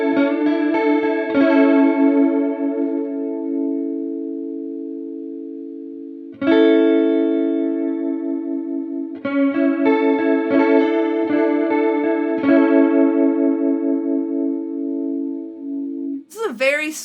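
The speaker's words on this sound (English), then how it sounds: "very sweet, nice chorus sound" Electric guitar through an Alexander Sugarcube stereo chorus pedal: strummed chords and arpeggios shimmer and swirl, ringing out and decaying between strikes, played alone and close.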